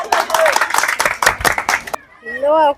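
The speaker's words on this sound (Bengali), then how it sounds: "একটু করতালি সবাই" Audience clapping at a women's prize game, a brief burst of scattered hand claps lasting about two seconds, close and fairly loud, then stopping as a voice speaks over a tonal sound.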